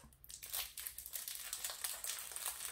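A small plastic wrapper on a WWE Slam Attax 2021 trading card packet crinkles and tears as it is opened, a close, quiet run of sharp rustling bursts with no talk.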